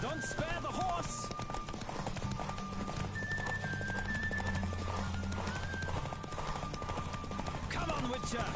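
Rapid hoofbeats of a galloping horse pound steadily throughout, with an occasional whinny and a voice calling out over the clatter, in the video game The Witcher 3.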